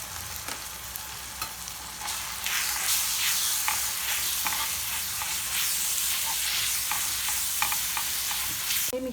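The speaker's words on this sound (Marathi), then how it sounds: "अर्धा चमचा हळद, आणि 2 चमचे मसाला मिक्स करूया।" Turmeric and masala stirred into a frying pan for a liver and gizzard fry, with a few sharp knocks at first, then a rising steady sizzle and scraping strokes of a spoon.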